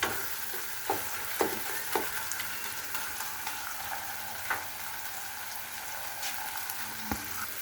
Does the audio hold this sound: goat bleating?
no